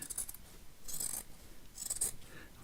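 Scissors cutting fabric for a festive stocking, two short bursts of crisp snipping close by, quiet and alone against a soft background.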